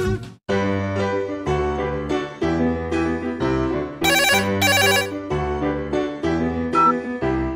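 An electronic telephone ringtone plays a repeated melodic pattern, loud and continuous, in a cartoon rescue scene involving a broken boat.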